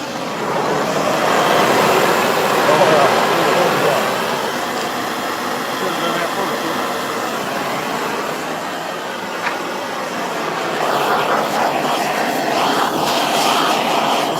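A gas torch roars steadily as it scorches a chainsaw-carved wooden bear, a loud continuous rushing flame noise that swells and eases slightly throughout.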